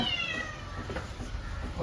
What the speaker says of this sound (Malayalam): എന്താ പൂച്ച ഈജ് കാട്ടണത്?